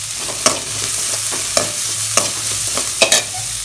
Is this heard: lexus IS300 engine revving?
no